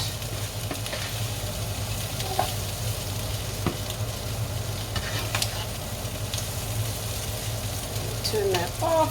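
Potatoes fry and get stirred around in a hot pan, a continuous crackling sizzle with occasional scraping knocks, over a low steady hum in the kitchen and faint talk near the end.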